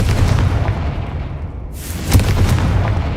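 Confringo and Bombarda explosion spells go off in Hogwarts Legacy, a heavy low boom rolling over steady rumble, then a sharp burst with a hissing high tail and a few quick follow-up pops.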